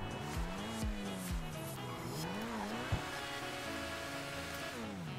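Progen Itali GTB supercar engine in GTA V, revving with rising and falling pitch sweeps and brief tire squeals, loud and close against a steady mechanical hum throughout.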